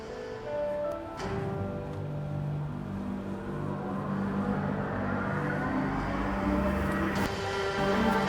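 Engine roar with a steady rumbling hum, rising gradually in loudness over several seconds, from a jet engine shown in a Dubai Expo 2022 feature.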